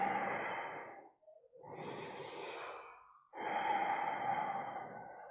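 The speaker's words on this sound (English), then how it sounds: "I'm going to take a couple breaths here." Slow, deep breathing during a wide-angle yoga forward bend: a long airy exhale, a short pause and quiet inhale, then another full breath, close and breathy with no talking.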